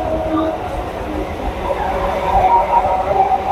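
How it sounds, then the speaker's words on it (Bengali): Local train rumbling into Dum Dum Junction in Kolkata, a steady rolling rail noise with some squealing tones, close and continuous throughout. "আমাদের ট্রেন চলে আসলো দমদম জংশনে"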